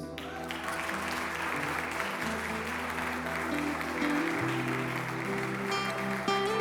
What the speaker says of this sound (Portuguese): Essas palmas aí foi para aqui, as palmas para Jesus